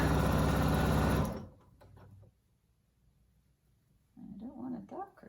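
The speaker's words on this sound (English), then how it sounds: "Just bury your needle and pivot at each corner." A sewing machine stitches around a square of fabric for a face mask, running loud and steady for about a second before stopping, then faint handling sounds and someone speaking.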